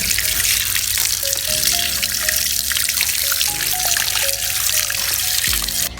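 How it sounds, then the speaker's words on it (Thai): Tap water runs steadily and close by as a plant's roots and sticky soil are rinsed under a faucet, a continuous splashing trickle with shifting tone that carries on throughout, alone without any voices. "เพื่อนๆมิ้นก็จะเปิดน้ำล้างเขาเลยนะคะ"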